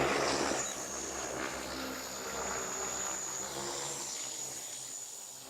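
A Freefly Alta drone lifts off on a remote-sensing flight, giving a steady, fairly loud whirring drone with a high motor whine that holds throughout, with no speech.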